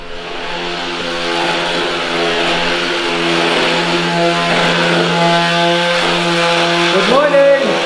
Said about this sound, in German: der René ist fleißig am Schleifen